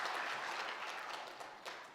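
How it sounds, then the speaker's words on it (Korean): A church congregation applauds at a Sunday worship service, with steady, dense clapping from many hands filling the room at a moderate distance. It holds fairly even throughout and fades slightly near the end. "우리 귀한 찬양 받으신 하나님께 감사와 찬양의 박수를 드리겠습니다"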